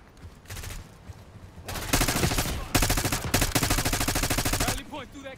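Rapid automatic gunfire in Call of Duty: Black Ops 6, several loud close bursts of rattling shots in quick succession with short gaps, and someone speaking briefly at the end.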